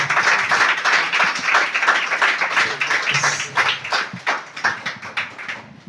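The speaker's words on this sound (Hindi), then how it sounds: "तालियों" Audience members at a certificate distribution ceremony held by a blind association clap close by in distinct, loud, uneven bursts that swell and fade in waves.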